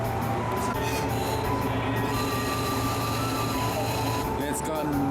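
A single-car local train rolls along the rails in cold northern Hokkaido, heard from inside as a steady, loud rumble with a constant low hum and faint wheel squeal throughout.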